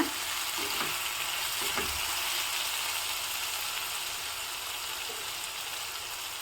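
Brinjal frying in oil in a pan with its lid just taken off, a steady, fairly loud sizzle with a few soft stirring knocks near the start, no one talking.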